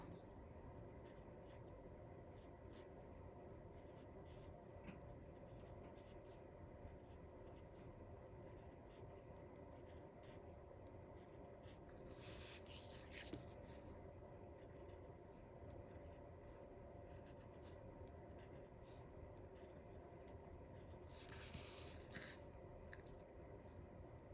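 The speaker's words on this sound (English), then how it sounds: "So grab your pencil and let's do some shading again." Pencil shading on paper for a Zentangle drawing, a long run of soft, close scratchy strokes with a few brighter rubbing bursts, quiet and steady throughout.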